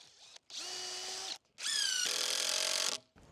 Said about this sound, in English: I'm going to pre-drill and go on a bit of an angle